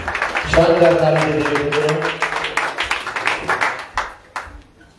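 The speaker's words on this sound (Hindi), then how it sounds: "शानदार ताली" Audience applause at a Ramayan katha gathering, a burst of scattered hand claps rising at once and thinning into irregular claps over several seconds, with a voice speaking over the start.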